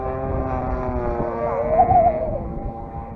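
Hanger 9 Valiant RC airplane with a 35cc gas engine and 108-inch wingspan flying in strong wind, a steady droning engine tone with pitch rising and falling slightly as it passes, heard at moderate distance.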